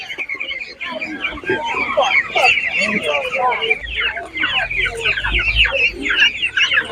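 Chickens clucking at a village animal market in Khryplin, Ukraine, a busy chorus of close, loud clucks and squawks overlapping continuously, with a low rumble of handling noise partway through.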